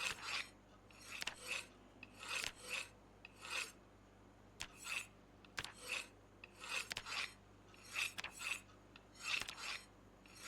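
A blade is sharpened on a whetstone in Project Zomboid, repeated rhythmic rasping strokes in short bursts roughly every second, fairly quiet and close, separated by brief pauses, with no voices.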